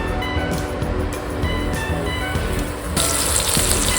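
Stuffed mackerel (bangda) sizzling loudly as it is laid in a hot pan for a Goan dish, a harsh continuous hiss that swells brighter partway through, close and without talk.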